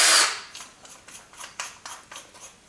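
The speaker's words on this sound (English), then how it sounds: "I've done all the drilling now" A cordless drill whirs in a loud opening burst, then a string of short, evenly spaced bursts follows as the bit works through material while building a signal generator with dip function, close and without voices.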